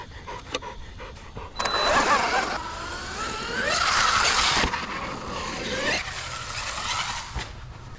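A giant RC rock racer car launches off dirt jumps, its electric motor whining in loud bursts that rise and fall over several seconds, with thuds between the surges and no talking.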